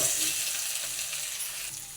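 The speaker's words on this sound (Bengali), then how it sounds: "এবার সেদ্ধ আলুটা দিয়ে দেবো।" Boiled potatoes sizzle and crackle in hot oil in a pan, a steady close frying hiss with occasional stirring scrapes.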